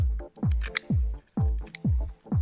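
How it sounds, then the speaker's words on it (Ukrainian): Repeated wet snipping as scissors cut a raw quail into pieces, about five or six cuts in a steady rhythm, each with a squelchy, moist crunch, close up and with no talking. "Я ріжу ножицями."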